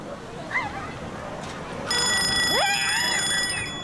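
A bell rings out to mark the start of a new school year in New Zealand, its sustained ringing tone entering partway through over a noisy background with voices.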